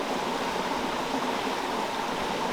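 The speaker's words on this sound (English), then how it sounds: "we are in a section of the river where it's running pretty steadily" A river section in the New England woods runs steadily, giving a continuous, even wash of flowing water with no breaks or voices.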